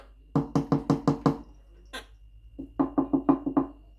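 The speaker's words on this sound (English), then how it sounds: "knock, knock" Someone knocks on a Quaker parrot's cage in two quick, rhythmic series of about six sharp raps, with a brief pause between them, close and clear, with no speech.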